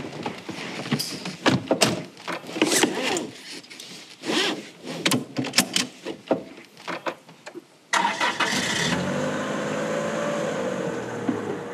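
A car on the road sets off: a run of door thunks and knocks, then the engine catches and settles into a steady, close driving rumble that fills the last few seconds.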